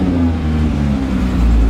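A 12-valve VR6 engine runs loud and steady through its exhaust, a close, continuous low drone held high as if bouncing off the rev limiter.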